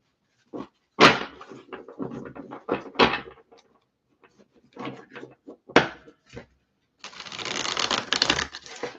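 Tarot cards being shuffled by hand, with several short bursts of riffling and card handling followed by a longer, steady shuffling run near the end, close and fairly loud.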